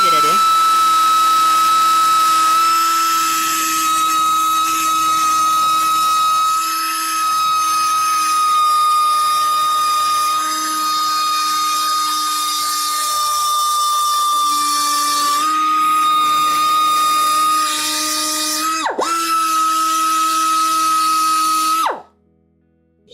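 A power tool bit grinds against a metal exhaust manifold, a loud sustained high whine with steady pitch that dips briefly near the end before cutting off abruptly.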